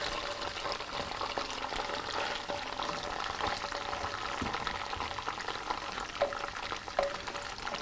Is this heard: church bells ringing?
no